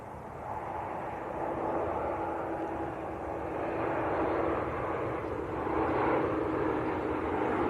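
TUI airliner on short final approach at Manchester Airport, a sustained jet roar that swells gradually and peaks toward the end as the aircraft draws nearer, with no one speaking.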